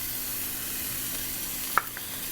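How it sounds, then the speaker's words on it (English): One whole shallot stirred around in a warm pan, giving a soft, steady sizzle with a faint scrape or tap from the stirring and no talking. "The next thing we want to do is cook the shallot."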